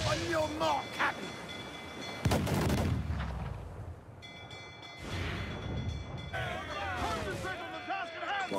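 Ship cannons firing during a naval battle in Assassin's Creed IV: Black Flag, with two heavy booming volleys in a row and voices and game sounds throughout.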